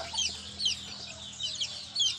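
A hen with newly hatched chicks in a backyard, the chicks giving faint, high, repeated peeping cheeps in quick bursts over a quiet background.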